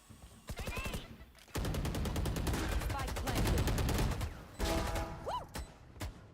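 Dense automatic gunfire rattles in the shooter game Valorant, with rapid bursts, a short pause and more volleys plus metallic reload and ability effects. The shots are loud and close.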